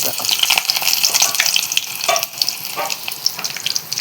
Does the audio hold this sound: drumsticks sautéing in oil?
yes